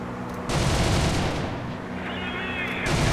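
Sustained dense gunfire in the War Thunder flight simulator during a Ta 154 flight, loud continuous automatic bursts with a rumbling engine drone beneath, one burst cutting out briefly midway before resuming.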